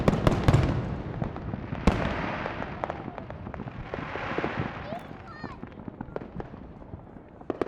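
Fireworks exploding at night on a breezy evening, a dense run of sharp cracks and booms, some close and loud, others fainter, with crackling bursts between them and no talk.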